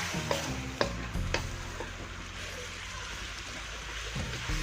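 Cabbage cooking in a pan without water is stirred, with a few spoon clinks early on over a dull, steady sizzle and rumble, fairly quiet throughout.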